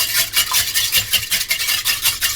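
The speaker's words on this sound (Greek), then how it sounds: "Τώρα τα χτυπάμε αυτά." Five eggs whisked briskly in a bowl, the whisk tapping and scraping in a quick, steady rhythm, close and fairly loud.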